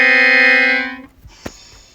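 Horn of a CC206 locomotive sounds one loud, steady harmonic blast for about a second, then cuts off to quiet background with a brief knock.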